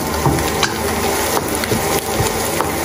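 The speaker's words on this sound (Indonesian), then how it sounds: "Dan ini digoreng dulu." Soaked dried radish (chaipo) fries in a pan with a continuous close sizzle, broken by soft stirring scrapes and small pops.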